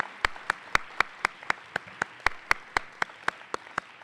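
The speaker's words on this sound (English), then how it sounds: "Let's give one last applause to Alyssa, Joe, and Amy" Conference audience at a climate and conservation plenary claps for panelists, about fifteen evenly spaced, sharp, isolated claps in a steady rhythm, moderately distant in a large hall.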